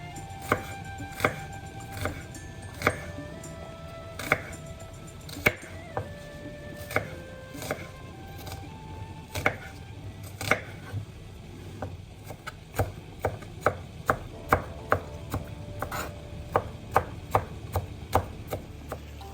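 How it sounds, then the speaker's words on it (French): A knife chops red onion into small pieces on a cutting board in irregular taps, some quick runs of strikes, fairly close, with faint background hum. "on coupe l'oignon rose en petits morceaux"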